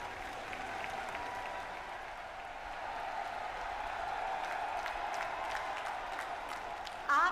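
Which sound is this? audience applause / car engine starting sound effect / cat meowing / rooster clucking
audience applause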